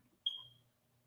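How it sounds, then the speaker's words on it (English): A smoke alarm gives a single high-pitched electronic chirp, fading out over about a third of a second against a quiet room hum. "don't worry about my smoke alarm"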